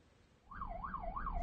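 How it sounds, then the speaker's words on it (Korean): An ambulance siren wails in a steady rising-and-falling sweep on a road as the vehicle slowly moves into the first lane, growing louder over low traffic rumble, with no talk. "구급차가 사이렌을 울리며 도로 2차선에서 1차선으로 천천히 진입합니다"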